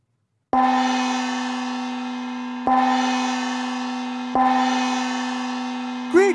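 A large gong is struck three times, each stroke ringing out loud and sustained with a rich shimmering tone that slowly decays before the next hit, with a brief extra clang at the end.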